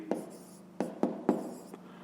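Pen or pencil writing a fraction by hand on paper during a fifth-grade maths exercise, four or five short scratchy strokes in an uneven rhythm, close and quiet with no talk.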